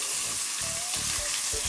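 Onions, dried red chillies and curry leaves fry in hot oil with fried urad dal, giving a steady close sizzle broken by a few soft stirring scrapes; no one speaks.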